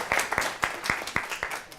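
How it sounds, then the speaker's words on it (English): A small audience gives a round of applause, the claps landing in a fairly even, quick rhythm, close and moderately loud, with no talking over them. "so we're going to give them a round of applause."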